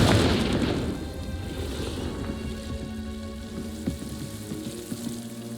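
A Confringo explosion spell goes off in the Hogwarts Legacy video game: a loud burst at the start that rumbles and crackles as it fades, followed by quieter game effects and small impacts.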